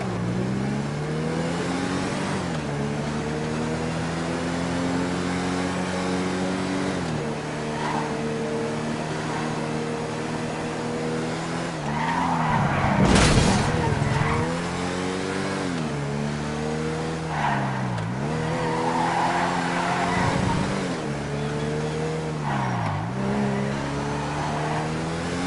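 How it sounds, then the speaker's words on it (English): Cavalcade XL car on a video game test drive, a steady engine drone repeatedly rising and dipping through gear changes, with loud tire squeals and skids near the middle and again later. "This is the Cavalcade XL, and we are going to test drive it."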